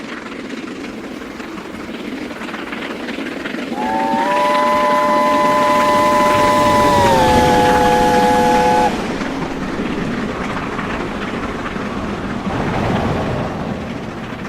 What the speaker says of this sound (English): We next catch the train as it rockets through South Hall.